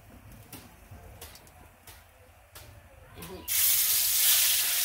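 Oil hitting a hot pan while cooking fish curry: quiet clatter and faint taps at first, then a sudden loud, steady sizzle that fills the last second and a half.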